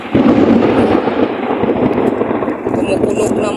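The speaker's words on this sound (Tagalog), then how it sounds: "Kumukulog na mga ka-idol." Thunder rumbles loudly and steadily outdoors ahead of rain, a dense low roar that lasts the whole moment without a break.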